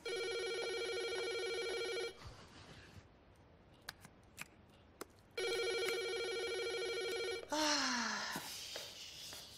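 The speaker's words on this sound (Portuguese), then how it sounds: "E custava você atender o telefone?" A telephone rings in two long bursts of an old-style electric bell, close and clear, with a quiet pause between them and a short sighing voice after the second ring.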